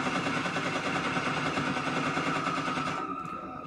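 A mine thrower fires in Resident Evil 4 as a dense, continuous, rapid mechanical burst that runs steadily for about three seconds and then stops abruptly.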